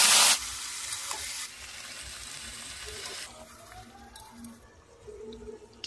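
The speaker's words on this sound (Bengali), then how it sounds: "মশলা মেশানো মাংসটাকে দিয়ে নাড়াচাড়া করব" Spiced chicken added to hot oil with panch phoron and bay leaf, a sharp loud sizzle at first that settles into softer frying and stirring scrapes as the pan calms.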